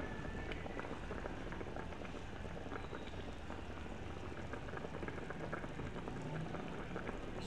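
Steady rain falls around a home kitchen at lunchtime during the rainy season, a dense continuous patter and hiss at an even level with no talk over it.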